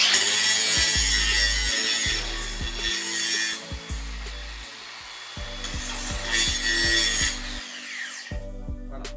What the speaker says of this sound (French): et j'ai plus qu'à meuler